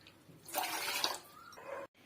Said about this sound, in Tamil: 4 கிளாஸ் அளவு நான் தண்ணி ஊற்றிக்கிறேன்.